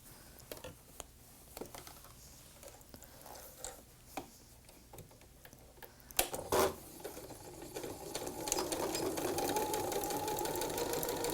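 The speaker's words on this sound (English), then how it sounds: "So let's go ahead and take it to the sewing machine." A sewing machine stitches a mitered piano-key quilt border, with faint scattered clicks and handling sounds first, then a steady, quiet mechanical whir once the machine starts running.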